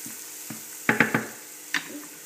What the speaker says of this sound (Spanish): rehogamos un poco la harina para quitarle el sabor a crudo